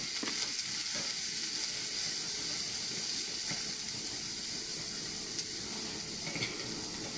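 Curry leaves, green chili and red and green peppers fry in hot oil, giving a steady crackling sizzle throughout with a few faint scrapes of stirring.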